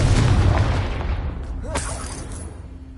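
A Confringo blasting spell explodes in a Harry Potter video game, a loud deep boom that hits at once and slowly rumbles away over a few seconds.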